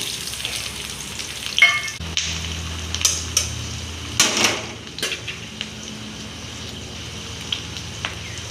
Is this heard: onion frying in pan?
yes